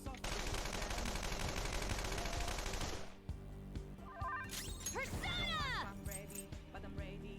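Rapid machine-gun fire rattles without a break for about three seconds in Persona 5 Royal, then stops. Sparse in-game effects and musical tones follow.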